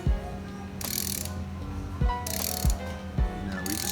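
A ratchet hand-tightens ARP head bolts on a 5.3 LS engine, with short bursts of clicking strokes repeating about every second and a half over a steady background hum.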